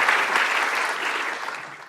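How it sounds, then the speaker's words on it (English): Audience applause after a lecture fills the room, a steady dense wash of clapping that holds loud and even before tapering off at the end. "Have a round of applause for Steve Furber."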